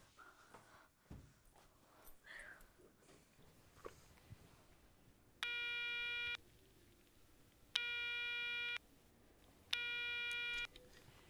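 A phone call to hotel reception rings unanswered: three steady electronic ringback tones, each about a second long and spaced roughly two seconds apart. They sound clear and even over a quiet indoor background.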